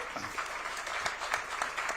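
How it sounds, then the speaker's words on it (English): An audience at a business summit session on India and the global economy applauds steadily. The clapping is a dense, fairly quiet wash with no speech over it. "And you can applaud yourself"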